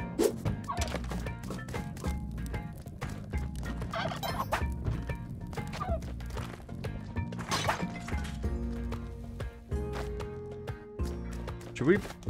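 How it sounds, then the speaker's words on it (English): Turkeys gobble within a video game level, with the gobbling calls mixed among thwacks and crashes of game action while people talk over the sounds throughout. "There's 4 turkeys total on this level."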